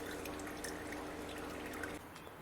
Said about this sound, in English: that's been dripping for a little while now